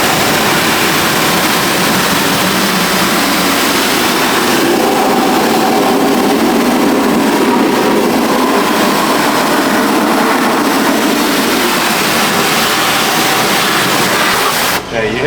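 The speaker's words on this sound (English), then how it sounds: "now we're about to go in with the pressure washer" A pressure washer cleans the engine bay of an old body style Chevy truck with a loud, continuous, hissing spray that holds steady for about fifteen seconds before cutting off abruptly.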